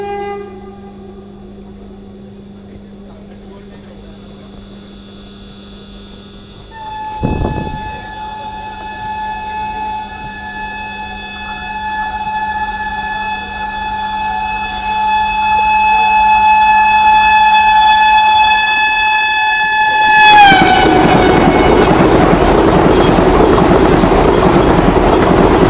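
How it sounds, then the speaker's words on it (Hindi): A Vande Bharat Express train draws near on an Indian rail route. A steady horn tone rises in strength, and then a loud roar of the passing train takes over for the last several seconds. "इस रूट की सबसे ज़्यादा premium train Vande Bharat express आ रही है।"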